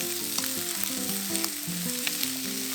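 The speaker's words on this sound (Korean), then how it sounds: "다진 마늘 조금 넣고 볶아주다가 파프리카 넣고 살짝 볶아줍니다" Paprika and minced garlic sizzling in a hot frying pan, a dense, steady crackling hiss with occasional light pops and stirring scrapes, close and continuous.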